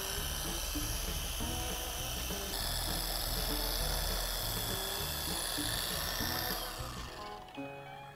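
A Porter Cable orbital polisher runs at low speed with a fine pad, giving a steady close whirring hum with a rhythmic wobble that fades out as the machine winds down near the end.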